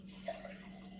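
Warm water runs briefly from a tap while tortilla dough is being made, a short steady trickle with a small splash, fairly quiet and alone.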